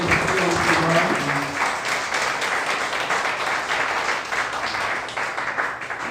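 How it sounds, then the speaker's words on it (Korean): A crowd of party members at a Democratic Party meeting in Jeju claps steadily and loudly throughout, a thick continuous wash of applause with faint voices beneath it. "큰 박수로 부탁드리겠습니다."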